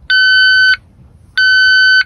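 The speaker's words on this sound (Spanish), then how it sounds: "Alarma de gases y narcóticos junto a la cocina y la puerta de entrada." Two long electronic beeps from a campervan gas and narcotics alarm, each lasting over half a second, with a pause between; loud, shrill and steady, over faint low background noise.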